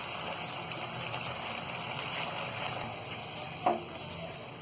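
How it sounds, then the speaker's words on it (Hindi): Onion, ginger, garlic and powdered spices fry in a pan for paneer do pyaza, a soft steady sizzle with one brief clink of a utensil near the end. "अब डाल देंगे हम इसमें ये सारे पाउडर मसाले, भी हम अच्छी तरह भून लेंगे"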